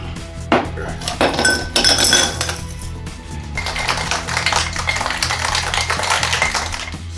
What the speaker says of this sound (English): we can add a little bit of ice and just shake it up for 15 seconds or so